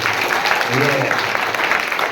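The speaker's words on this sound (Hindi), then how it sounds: "नहीं जोरदार तालियां बजाओ अपने लिए करें।" Schoolchildren clap loudly together at a school assembly, a dense, continuous burst of applause that fills the whole moment with some voices mixed in.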